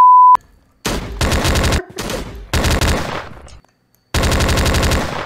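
Rapid bursts of video game gunfire in an EddsWorld game, loud and close, coming in several long automatic volleys with short gaps and a brief beep at the start, no voices.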